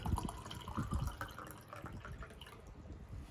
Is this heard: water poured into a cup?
yes